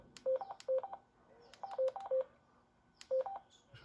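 Short two-tone beeps come through a scanner tuned to a radio repeater frequency in Puerto Rico, in three quick bursts of two or three tones each, separated by brief pauses over faint static.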